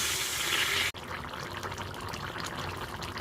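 Water poured into jackfruit curry in a pan, a steady close pouring and trickling rush after a brief break at the start.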